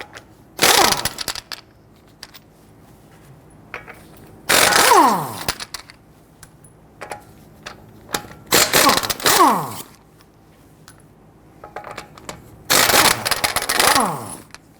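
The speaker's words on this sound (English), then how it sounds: "loosen and remove your lug nuts." Lug nuts on the front passenger-side wheel of a 2008-2013 Infiniti G37x being loosened and removed with a 21mm socket: four loud, whirring mechanical bursts of about a second each, separated by quiet gaps with faint clicks.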